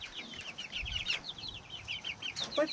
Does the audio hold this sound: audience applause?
no